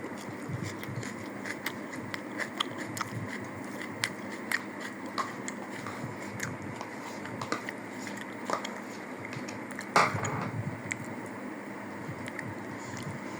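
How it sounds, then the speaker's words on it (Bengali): Someone bites and chews a tomato slice topped with chili paste, producing soft wet squishes and small crackling clicks close to the mouth over a low room hum. "একটি টমেটোর স্লাইস নিয়ে নিচ্ছি সাথে মরিচ পেস্ট এরপরে খেয়ে দেবো কেমন লাগে"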